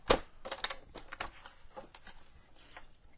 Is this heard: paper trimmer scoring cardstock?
yes